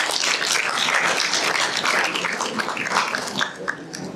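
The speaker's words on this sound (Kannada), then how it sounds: "ಜೋರಾದ ಚಪ್ಪಾಳೆ ಕ್ರೀಡಾಪಟುಗಳಿಗೆ." Sustained, dense applause from a large audience for athletes at a sports and cultural activities prize-giving ceremony, steady and loud throughout before thinning slightly at the end.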